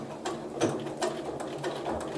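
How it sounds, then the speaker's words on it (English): A sewing machine stitches along a pillow cover near an invisible zipper, running in short bursts with rhythmic mechanical clatter and small pauses between runs. "I will stitch up to it as close as I can, but I don't want to stitch into it"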